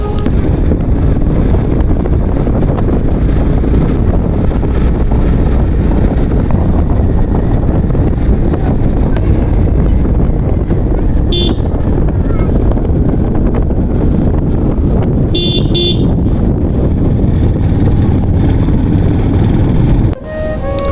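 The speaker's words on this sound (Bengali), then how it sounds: "চলুন আপনাদেরকে একটু বাইকের সাউন্ডটা শোনাই।" A Yamaha FZ X motorcycle engine runs in a steady, loud, continuous drone with heavy wind noise across the microphone, suggesting the bike is being ridden. A few brief beeps break through near the end.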